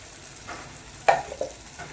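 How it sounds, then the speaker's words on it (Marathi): A ground spice paste cooks in a pan for a Maharashtrian mixed vegetable dish, a quiet, steady sizzle with a sharp scrape of stirring near the middle and a few smaller clinks after. "आणि हे वाटण दोन ते तीन मिनिट छान शिजून घेऊया"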